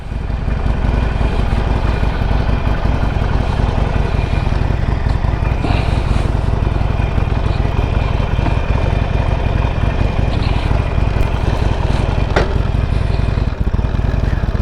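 A Harley-Davidson Sportster motorcycle engine rumbles steadily and loudly while riding, its low drone continuous throughout with wind noise and no break in the sound.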